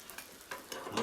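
An omelette is loosened around the edge of a frying pan, with a few quick scraping strokes over a soft, steady sizzle.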